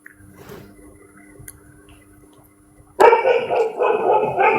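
A dog barking close by, a short burst of loud barks starting suddenly partway through after a quiet stretch with faint background sounds.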